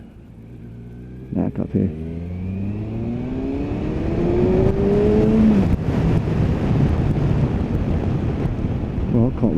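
A Kawasaki Versys 1000 LT touring motorcycle accelerates hard from low revs, its engine note climbing through the gears under heavy wind rush, with a brief spoken remark early on.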